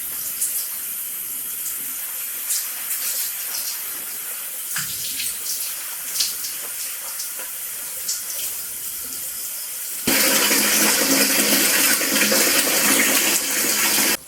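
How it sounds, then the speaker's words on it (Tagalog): Water from a bathroom shower running in a steady hiss with scattered splashes and drips, then suddenly louder and fuller toward the end as the flow strikes closer. "Let's take a shower."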